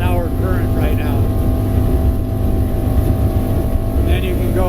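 A 2020 North River 21-foot Fastback boat runs at about 40 mph at roughly 5,800 to 5,900 rpm against a river current, a steady loud engine drone with water and wind rush throughout, while a person talks over it.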